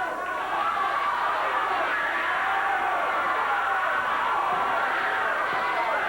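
A crowd at a Memphis professional wrestling show keeps up a dense, continuous roar of cheering and shouting, loud and steady throughout, with no single voice standing out.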